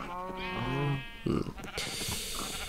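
Sheep and goats bleat inside a barn full of farm animals in a video game, with several wavering cries in succession, a short thump, then a hissing rustle, and a voice speaking briefly.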